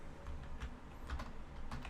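Computer keyboard clicking, a quiet run of uneven keystrokes tapping along at close range with no talk.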